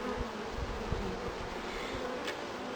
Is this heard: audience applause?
no